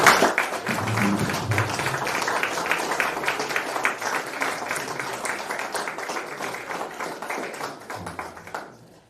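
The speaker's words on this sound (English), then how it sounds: "I think we can give a large round of applause." Sustained audience applause at a ceremony marking 30 years of Slovenian-French research cooperation under the PHC Proteus program: dense, even clapping from a sizable crowd that holds steady and fades near the end.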